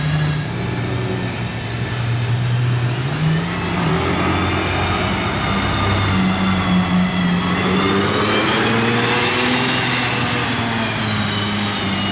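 Aston Martin Valkyrie engine revving in Monaco, a loud, sustained high-pitched howl with rising and falling pitch as the revs swing up and down for about twelve seconds, close and continuous with no talking.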